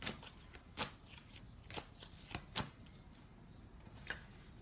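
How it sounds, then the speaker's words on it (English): Tarot cards are shuffled by hand in a quiet room, giving soft, faint riffles and papery slaps in uneven bursts throughout, with no talk. "I'm going to pull one more card for that"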